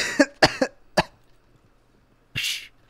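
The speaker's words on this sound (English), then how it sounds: "Don't cough too much." A person coughs close up, several sharp bursts in quick succession followed by a pause and one final harsher cough, with no talking.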